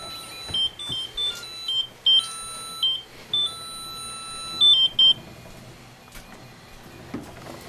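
An alarm mode on the collar of a lifelike trigger-prop dog sounds a series of short, bright electronic beeps and chirps in an uneven pattern, fairly close and clear, with no talking.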